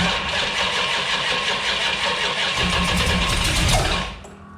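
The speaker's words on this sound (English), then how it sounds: "Don't give it any fuel, just crank it." A small-block Mopar V8 cranking over on the starter with the ignition on and no fuel given, a steady loud churning that runs for about four seconds and then cuts off abruptly.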